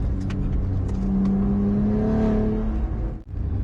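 A Cadillac ATS-V tuned to 625 wheel horsepower accelerates hard on a race track, its engine holding a loud, continuous roar with a rising pitch before a brief dip near the end, heard from inside the car with no talking.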